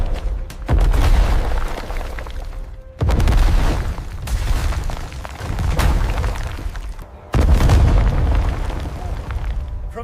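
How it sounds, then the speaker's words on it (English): Massive medieval bronze siege cannon at the fall of Constantinople: three deep, heavy booms, each opening with a sharp blast and rolling into a long low rumble that fills the space, loud with no talk. "Urban crafted a cannon of unprecedented scale, so immense it demanded 60 oxen to slowly drag."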